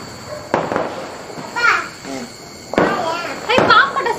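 Diwali firecrackers go off at home in several sharp bursts of crackling pops, with children's voices and chatter in between.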